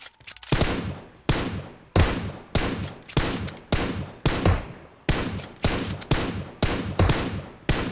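Gunfire in a battle royale game: a steady series of about a dozen loud, sharp shots spaced roughly half a second apart, each decaying quickly, with no speech over them.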